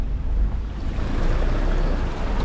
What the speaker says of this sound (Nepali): खोलामा गाडी कुद्दैछ